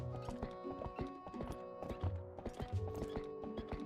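Epona, the horse in Zelda: Twilight Princess, trots with quick clip-clop hoofbeats and gives a neigh over game music. The sound is moderately quiet and no one speaks over it.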